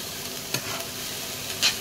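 Chopped garlic stirred with paneer in a hot pan, a steady soft sizzle of frying with a couple of brief scraping stirs, close and fairly quiet.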